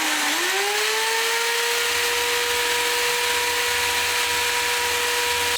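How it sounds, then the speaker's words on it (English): Power sander working on a worn mainsheet fitting aboard a Hallberg Rassy sailboat, a steady high whine that spins up in the first half second and then holds even and loud for the whole stretch, with no talk. "So after sanding it off"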